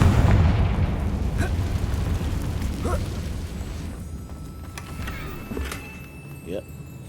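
In Hogwarts Legacy on PS5, the Confringo fire spell lands as loud booming bursts that fade over several seconds, with a few sharp crackles and pops following under some talk.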